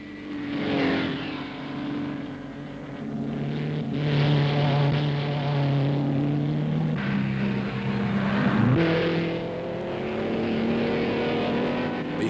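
Racing cars from 1960 thunder past on the Bathurst 100 Easter circuit: a sustained, loud engine roar with wavering pitch and a sharp pitch drop as one car passes close by.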